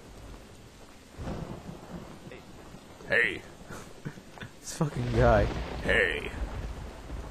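Thunder rumbles with steady rain in the video game Sword & Sworcery EP, a dense storm bed with several louder swells, while someone talks excitedly over it.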